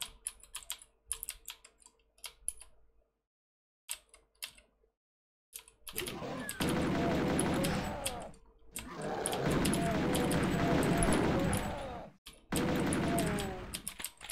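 Shotgun fire in the video game Deus Vult II, sounding as bursts of sharp, rapid shots, some clustered and some sustained for seconds, separated by brief silences, with no voices.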